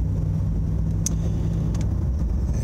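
A 1983 Oldsmobile 98 with a 307 V8 and 200R4 transmission cruising along, heard from inside as a low, steady, quiet engine rumble with road noise and a few faint clicks.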